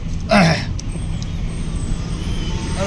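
Private bus in Nalbari town, Assam, passing close with a short loud hiss of air brakes near the start, then a steady engine and road rumble.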